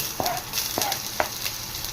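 Garlic and onion sauté in a pan with a steady sizzle, broken by a few sharp scrapes of a utensil stirring the aromatics.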